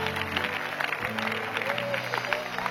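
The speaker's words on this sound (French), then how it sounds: "Là maintenant tu peux applaudir." Moderate audience clapping at a church gathering, uneven hands applauding with faint background voices and a low hum.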